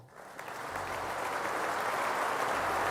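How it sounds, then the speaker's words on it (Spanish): Sustained, dense ovation from Italy's parliament, deputies and senators on their feet applauding the Spanish king after his speech, loud, steady clapping swelling within the first second and holding. "ha recibido una grandísima ovación de todo el Parlamento, los diputados y senadores se han puesto en pie para aplaudir a nuestro monarca"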